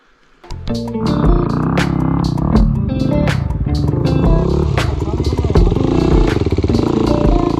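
A motorcycle churns through thick mud, its engine starting up and then roaring loud and close with steady, rough revving and clattering throughout, the tyres struggling for grip.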